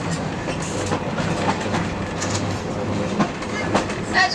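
Aboard a heritage train ride at the Ohio Railway Museum, the railcar rumbles along with rhythmic clickety-clack of wheels over rail joints and occasional creaks, moderately loud and continuous.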